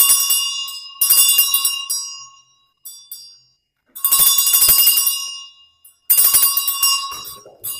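A bright bell rings loudly in three separate bursts of rapid metallic strikes, each leaving a ringing tone that fades before the next burst.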